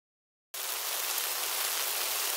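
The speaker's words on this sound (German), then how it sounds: "Oh, es regnet!" Rain falls in a steady, dense hiss that starts abruptly after a short silence and continues evenly, close and fairly loud, with no voices.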